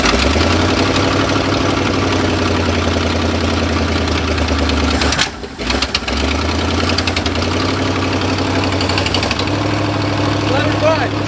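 A small engine just fitted with a restored carburetor runs steadily and loudly at a fast idle, with a brief sputtering dip near the middle before it picks back up and keeps going.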